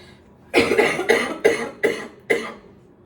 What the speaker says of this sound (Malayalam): ചുമ ഭയങ്കര ചുമയാണ്